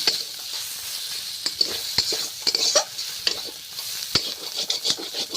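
Food sizzles steadily in a pan on a village kitchen fire while a utensil stirs and scrapes it, with irregular close clicks and scrapes over a constant hiss.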